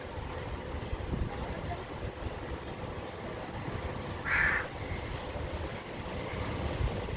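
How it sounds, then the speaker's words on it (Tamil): A single short crow caw rings out over steady wind and rolling surf. "இந்த சின்ன காக்காவும் எவ்வளோ கத்த முடியுமோ அவ்வளோ கத்துது"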